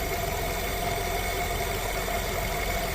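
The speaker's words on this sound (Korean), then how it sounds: "18만 킬로 주행한 엔진 사운드 한번 들어보시기 바랍니다" A 2.5-litre gasoline Nissan Altima engine with 180,000 km idles steadily with a constant low rumble and faint mechanical ticking, unchanging and close.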